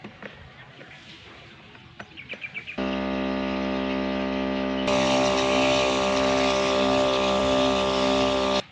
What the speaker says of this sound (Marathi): पंपाला ना घेऊन नोजल लावून बघू आणि ह्याने निघतंय का नाही बघू.